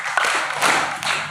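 Children at a Quran kindergarten clap together in a counting clapping game, sharp bursts of several claps landing in a quick uneven rhythm, close and fairly loud.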